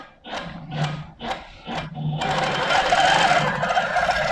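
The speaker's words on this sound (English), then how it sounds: "It's just a single line of stitching." A sewing machine stitches a single line: a few short separate whirring bursts, then a steady, loud continuous run of stitching, close and without talk.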